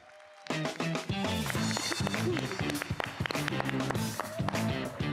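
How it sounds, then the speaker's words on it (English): An audience at an EMAR 2024 event bursts into applause for the next panelist, a sudden loud wave of dense clapping that starts abruptly and holds steady, with some cheering mixed in. "give an especially big round of applause for our next panelist"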